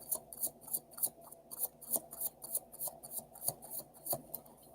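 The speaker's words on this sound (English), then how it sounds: "I'm a messy shuffler." Tarot cards being shuffled by hand, a fast run of crisp papery riffles and slaps in an irregular rhythm, close and fairly quiet, with no talking.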